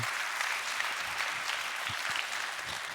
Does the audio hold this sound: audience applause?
yes